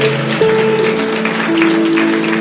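A church congregation applauding during worship, continuous loud clapping from many people with sustained music tones underneath.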